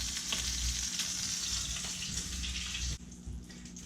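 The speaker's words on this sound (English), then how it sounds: "we're gonna roast it nice and brown on all the sides" Loud, close sizzling and crackling from quail searing in a hot pan, steady for a few seconds before dropping abruptly quieter near the end.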